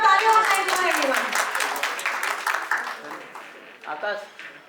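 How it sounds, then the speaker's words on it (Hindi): An audience applauds after a speech at an event, a steady wash of clapping that fades out gradually while a voice talks over it near the start. "एक बार जोरदार तालियां और थैंक यू एवरीवन।"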